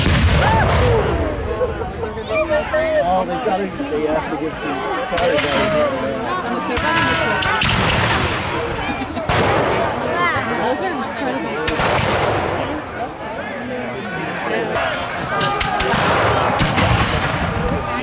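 British artillery cannon fire at a Revolutionary War reenactment at Mount Vernon booms out repeatedly, mixed with crackling musketry over a continuous rumble of battle, while people talk nearby throughout.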